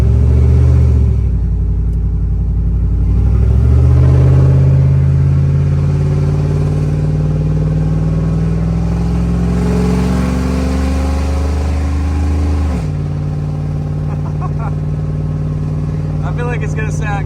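A straight-piped, cammed truck engine idles loud and close with a lumpy, choppy rumble, then swells and drops back in a few slow revs, and a voice comes through at moments.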